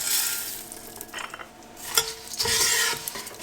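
Edible gum (gundar) is roasted in two spoons of ghee for methi pak. A spoon scrapes and stirs against the pan in bursts over a light sizzle, close by, with no voices.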